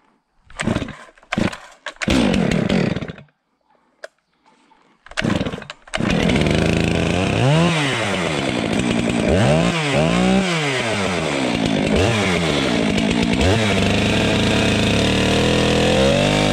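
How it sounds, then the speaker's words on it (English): A STIHL chainsaw starts after a few sputtering pulls, then roars steadily and loudly, its pitch dipping and rising as it bites into a tree trunk lying on the ground. "Let's use chainsaw now."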